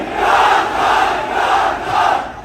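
A large crowd at a political rally roars and chants in loud, sustained waves, rising and falling about twice a second, dense and close with no single voice standing out.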